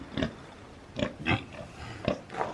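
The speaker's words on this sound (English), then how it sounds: "He's itching his back. He's scratching his back and going, "Eee."" A pig scratching its back lets out about five short, breathy grunts in an uneven rhythm, close and fairly quiet, with no voices.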